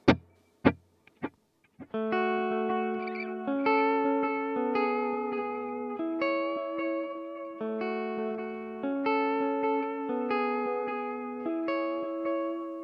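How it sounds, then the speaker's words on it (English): An electric guitar plays a clean repeating melodic line, each note echoed by a delay with no reverb wash, after a few plucked test notes. "Without the reverb, the delay sounds like this."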